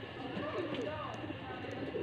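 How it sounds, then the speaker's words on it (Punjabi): Fancy pigeons in a Faisalabad loft give soft, low cooing calls close by, quiet and continuous, with faint voices underneath. "ਇਹਨਾਂ ਨੂੰ ਕਬੂਤਰ ਕਹਿੰਦੇ ਆ।"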